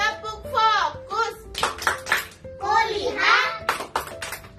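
Young children clap along in a classroom "tepuk fokus" focus routine. Bursts of sharp claps are mixed with their chanting voices in a quick, rhythmic pattern.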